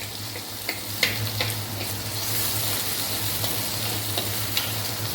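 Green chillies, dried red chillies, onions and tempering seeds sizzle in four spoons of hot oil in a pan, a steady loud crackling frying under occasional light scrapes and taps of a stirring spoon.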